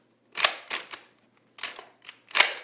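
A Recon CS-6 toy gun fires in several sharp, close clicks and pops, spaced unevenly over a few seconds, with no barrel fitted and no talking.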